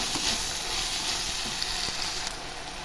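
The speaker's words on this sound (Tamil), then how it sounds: "இப்போ தக்காளி நல்லா வதங்கிட்டு எண்ணெயிலே நல்லா வதங்கி வரணும்." Onion and tomato fry in hot oil in a pan, giving a dense, even, close sizzle with a few faint stirring taps and no talking.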